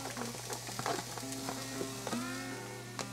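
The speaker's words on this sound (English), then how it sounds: "dump in your 1/2 a cup of green peppers, 1/2 a cup of red peppers, 1 1/2 cups of celery" Green and red peppers and celery sauté in a pan for boudin cornbread dressing. A moderate sizzle is punctuated by light clicks and stirring taps, with a faint steady hum underneath.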